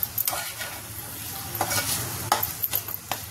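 Mango pieces being stirred into prawn masala in a pan, giving soft scraping strokes and intermittent clinks over a steady low sizzle, close and fairly quiet.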